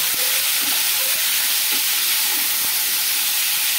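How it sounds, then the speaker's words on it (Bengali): Spices sizzle in a pan over a medium-high flame, a steady, dense frying hiss that holds for the whole stretch, close and fairly loud, with faint clinks of stirring beneath it. "মিডিয়াম টু হাই ফ্লেমে রেখে এগুলোকে একটু ভাজা ভাজা করে নেব"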